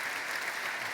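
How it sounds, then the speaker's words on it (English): Audience applauding a panel discussion, a brief, dense and steady burst of clapping with no talk over it. "Give them all a round of applause"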